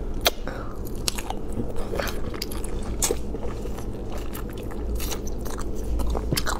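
Crunchy bites and chewing of a dish made with fresh green Sichuan peppercorns, crisp crackling crunches repeating close up, with no talking.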